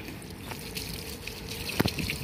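Water from a garden hose splashes and trickles onto a broccoli or tomato seedling in soil, a close, steady gurgling flow with a couple of sharper spatters near the end.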